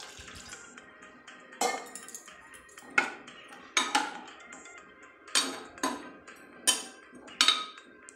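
A pot lid and a spoon clanking while chickpeas cook in a pot with water, giving sharp metallic knocks and scrapes in irregular bursts, close and fairly loud, with no speech.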